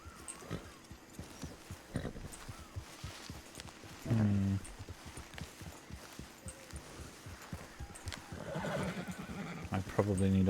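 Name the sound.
horse in a video game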